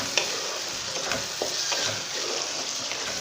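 A chana pulao mixture fries in a pot, a soft, steady sizzle broken by the scrapes and clicks of stirring, with a few sharper knocks against the pot and no talk.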